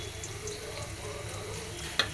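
Onions fry in hot oil with a dense, steady sizzle at moderate volume, and a single brief tap sounds near the end.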